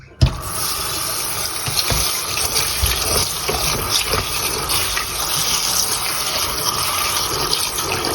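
Tap water gushes steadily into a kitchen sink as bean sprouts are rinsed, starting with a sudden splash and then running as a full, even rush with small clatters near the listener.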